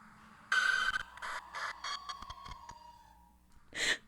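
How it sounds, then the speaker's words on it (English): A video game ghost scream: a sudden loud, shrill burst of eerie noise that decays into a wavering, fading tone, followed by a second short piercing shriek near the end. "That made me jump. That's the scream."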